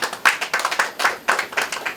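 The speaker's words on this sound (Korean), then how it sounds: "박수로 축하해 주시죠" A small indoor audience at a seminar claps briefly, a loose, close patter of hands over about two seconds.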